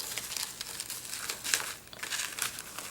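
Paper for pocket letters being folded to fit an envelope, a steady soft crinkling and rustling that runs throughout, fairly close and quiet, with no talk.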